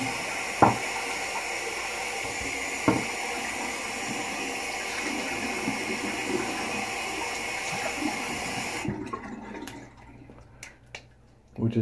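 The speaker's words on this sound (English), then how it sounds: "Refresh my water in my bowl." Water runs steadily from a tap to refill a shaving bowl, a continuous close hiss broken by a couple of clinks, then it shuts off, leaving quiet handling sounds.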